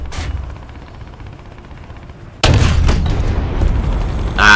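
A tank's 6-pounder cannon on a SARC Mk VI fires an HE shell in War Thunder, one loud, sudden blast followed by a rumbling tail over quieter engine noise.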